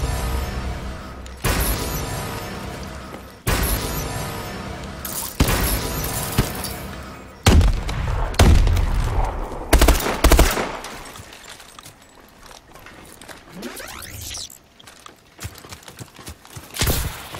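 Rapid bursts of gunfire in a Call of Duty Advanced Warfare multiplayer match, loud and repeated in clusters with sharp shots, explosions and game effects throughout.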